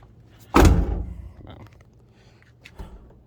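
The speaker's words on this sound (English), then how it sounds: "I guess just need to check to see if it latches" A single solid thunk as the door latch on a 1977 Dodge Ramcharger truck catches and shuts, loud and close, followed by faint handling clicks and a softer knock.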